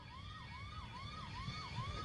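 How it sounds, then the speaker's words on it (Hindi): An ambulance siren wails in a steady rising-and-falling cycle, repeating about four times over low traffic rumble, moderately distant and fairly faint, with no voices. "ये देखिए 2 मिनट का एम्बुलेंस है।"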